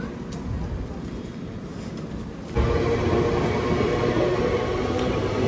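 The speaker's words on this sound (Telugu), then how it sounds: "మన ట్రైన్ అయితే వెళ్ళిపోతా ఉంది" A passenger train pulls away on the Kadapa to Bangalore line, heard from close by as a steady rumble and clatter that grows sharply louder midway and stays constant, with a voice talking over it.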